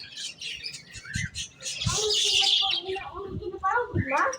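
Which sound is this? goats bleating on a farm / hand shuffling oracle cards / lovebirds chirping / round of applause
lovebirds chirping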